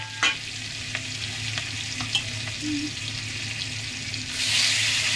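Prawns frying in a pan with green chillies for a shrimp greens curry, giving a steady close sizzle with a few stirring clicks and a louder surge of frying near the end.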